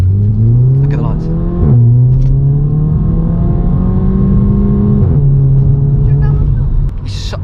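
A Volkswagen Scirocco with an aftermarket air filter and exhaust accelerating from inside the cabin, engine tone climbing through the revs, dropping at a gear change and rising again, loud and close.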